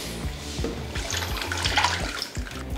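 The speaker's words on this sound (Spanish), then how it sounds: "Un poco de agua al vaso de la licuadora para enjuagarlo." Water splashes into a blender jar to rinse out leftover sauce in a home kitchen, a steady close pour and slosh with repeated low rhythmic thumps underneath.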